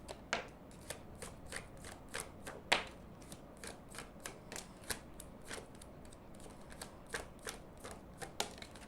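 Tarot cards being shuffled by hand, a long run of quick, crisp riffling snaps in an uneven rhythm, close and fairly quiet, with nobody speaking.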